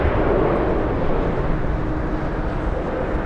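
An Airbus A380 roars through takeoff at LAX, a dense, loud, steady rumble of jet engine noise with no break, heard from the airport side.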